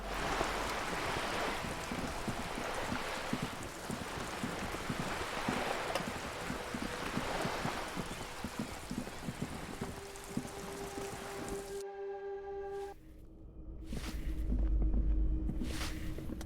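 Steady heavy rainfall in the video game Disco Elysium hisses continuously, broad and enveloping, then drops away near the end, leaving a quieter hum with faint tones and bursts.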